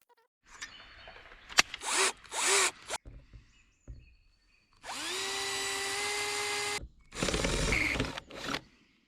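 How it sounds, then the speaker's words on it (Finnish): A power drill whines in several bursts, drilling holes in a metal camper van roof, with one long steady run biting into metal, separated by short pauses. "pitää porata reikiä ja sahata kattoa"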